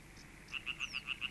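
A European tree frog calls in a quick run of about seven evenly spaced croaks, each a short bright pulse, fairly close and clear over a soft background hiss, with a faint whistle-like sweep passing midway.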